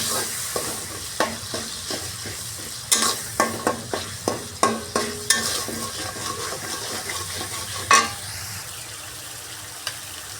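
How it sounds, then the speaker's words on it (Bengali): Kashmiri chilli powder and turmeric sautéing in a pan, a steady sizzle punctuated by a rhythmic series of spatula scrapes and knocks against the pan, close and clear. "এবার এটিকে আমি ভালো করে কষিয়ে নেব"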